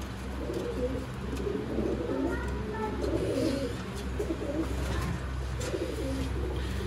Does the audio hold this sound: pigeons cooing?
yes